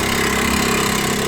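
An old, worn Honda Z50A motorbike engine with low compression running with a knock: a steady, loud mechanical drone with a fast repetitive pulse, close up and without talk.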